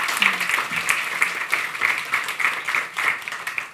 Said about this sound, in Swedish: En applåd för Britten.